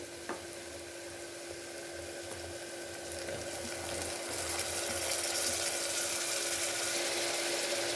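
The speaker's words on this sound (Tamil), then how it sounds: "வெங்காயம் நல்லா வதங்கிருச்சு நம்ம தக்காளி போட்டுக்கலாம்" Onions and tomatoes sauté in a pan for a mutton bone kulambu, giving a steady close sizzle that grows louder partway through, with no talking.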